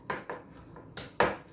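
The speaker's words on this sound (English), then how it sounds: "So you just mix it all up together" Eggs are beaten into squash torta batter in a bowl, a run of quick close utensil clacks and scrapes against the bowl, the last one loudest, with no talking.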